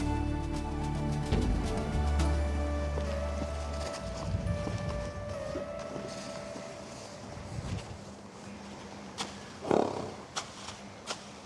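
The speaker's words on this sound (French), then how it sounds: "C'est un cheval westphalien qui est destiné plutôt au dressage." Hooves of a Westphalian dressage horse beat out a soft clip-clop against a busy background of steady tones and gusts of wind noise, with a sharper thud near the end.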